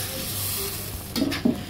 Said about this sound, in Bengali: মাথাটা আস্তে আস্তে কষানো হচ্ছে।